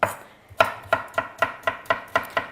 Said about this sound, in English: I enjoy chopping the cucumber actually more than the tomato and the capsicum